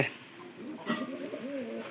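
Pigeons from a mated pair coo softly in a low, rolling warble that repeats over a faint background hiss, with no clear speech.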